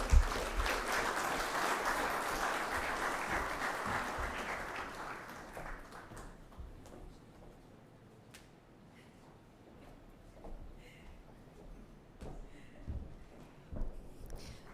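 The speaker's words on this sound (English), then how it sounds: "let's get one more round of applause for Dr. Barnett." Audience applause at the opening ceremony of the 55th CBU Annual General Assembly, a dense, loud ovation that fades after about six seconds into sparse scattered claps and room noise.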